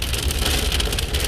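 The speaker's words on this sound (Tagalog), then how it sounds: "Yun o, ulan siya." Rain patters steadily on a car moving along a road in Oregon, a dense close hiss of drops over a low engine and road rumble, with no talking.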